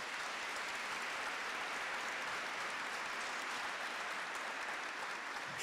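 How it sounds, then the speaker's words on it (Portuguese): An audience at a church revival event claps in sustained, even applause that stays at a steady level throughout, dense and moderately distant, with no speech over it. "Pode aplaudir, é maravilhoso, é maravilhoso."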